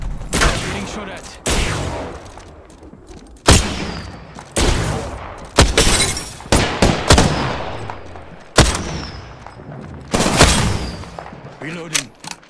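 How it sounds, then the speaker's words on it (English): Gunfire in a video game hits loud and close as the player comes under attack, with sharp shots and short bursts landing at irregular intervals, each ringing out briefly before the next. "Getting shot at."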